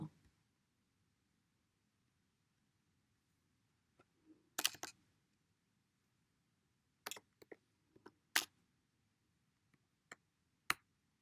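Short bursts of keyboard typing, a few quick clustered key clicks separated by pauses, close and crisp against a quiet background.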